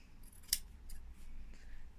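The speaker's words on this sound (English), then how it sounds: "Then if you take your fabric scissors," Fabric scissors snip through silk fabric in a few quiet, close cuts, one crisp snip standing out above a soft background.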